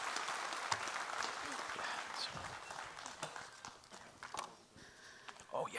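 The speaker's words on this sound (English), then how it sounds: "Let's give him one more round of applause," A conference audience claps in a loose, uneven round that thins and flickers with scattered sharper claps near the end, while a voice speaks over it.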